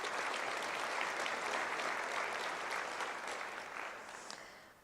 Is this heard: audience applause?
yes